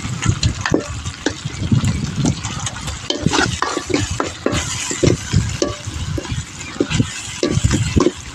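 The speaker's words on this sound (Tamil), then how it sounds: "இப்போ அது வதங்கின உடனே கறியை போட்டு கிண்டலாம்." Meat sautés in a pan, a busy stirring scrape and rattle repeating over a low, continuous sizzle, close and fairly loud.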